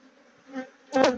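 African honey bees buzz at a crowded hive, a soft drone that swells briefly and then rises into a louder, close buzzing burst near the end.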